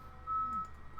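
Reversing beeps sound from a vehicle outside a window: a steady high electronic tone pulses on and off, slightly muffled and at a moderate distance, heard alone with no talk.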